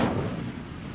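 Incendio fire spell cast in Hogwarts Legacy, a sudden loud whoosh-burst of flame that fades over about a second.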